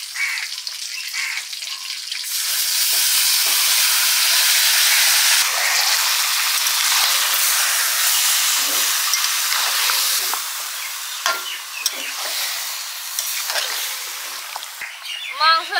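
Marinated chicken drops into hot fat rendered in a pot for a Bengali chicken curry, a loud, broad hissing sizzle that swells and holds steady, with faint clatters near the end.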